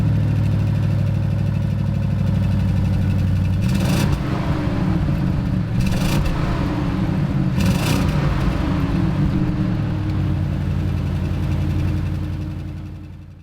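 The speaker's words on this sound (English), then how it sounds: "This one, however, is a V8 bi-turbo petrol engine, 600 horsepower, also 4-liter of displacement" A deep V8 twin-turbo 4-liter petrol engine of an Audi RS Q8 idles steadily, then revs sharply three times in quick bursts before settling back to a low rumble that fades at the end.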